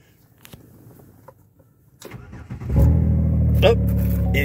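A 2006 Chevy Impala LT 3.9 automatic engine cranks and catches, then settles into a loud steady idle after a couple of seconds of quiet clicks and rustling.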